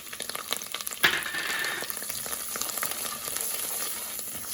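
Spices stirred in hot oil in a frying pan for Punjabi-style koftas, a steady close sizzle with a sharp scrape of the spoon near the start, no voices.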